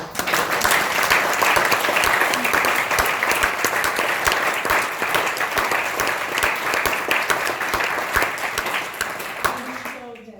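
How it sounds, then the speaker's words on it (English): Enthusiastic audience applause from a crowd of midwives and nurses at a live forum, a loud, dense, continuous clapping that holds steady for about ten seconds before cutting off abruptly. "round of applause."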